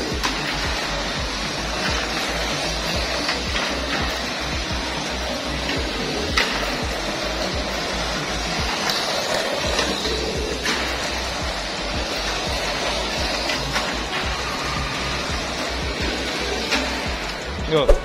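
A replica Buck Blader Tamiya Mini 4WD toy car's small electric motor runs in a steady, dense whirring buzz that continues without pause for about eighteen seconds.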